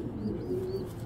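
A pair of racing pigeons coo softly in a low, continuous murmur under a steady background hum, faint and close.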